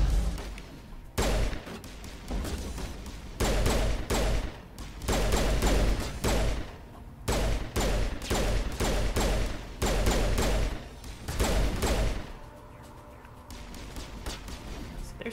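Gunfire rattles through a firefight on Eden Prime in Mass Effect Legendary Edition, dense bursts of rapid shots in repeated volleys with short pauses between, loud and close, easing into quieter background noise near the end.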